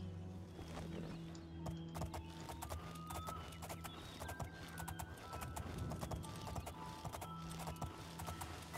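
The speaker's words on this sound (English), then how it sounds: "Come here, horse." Horse hooves clip-clop steadily in a video game, a continuous rhythmic patter of steps over a low droning background with faint mechanical hum.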